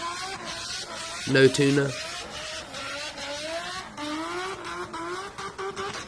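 A Nissan Skyline R34 driving hard, its engine note climbing through rising pitches with a brief louder burst early on, while a voice talks over it.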